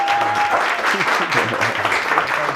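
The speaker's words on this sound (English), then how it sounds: "let's give a warm round of applause to my friend Dalumuzi Mhlanga." Loud, dense audience applause fills the whole stretch, a warm round for a guest taking the stage at an entrepreneurship fireside chat, with faint tonal music running underneath.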